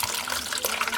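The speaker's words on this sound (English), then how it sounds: "if you can take a look at the pressure and the kind of water that is coming from there, very clean, crystal clear." Clean, crystal-clear water gushes under strong pressure from a rural water supply outlet, a steady close splashing rush with no pauses.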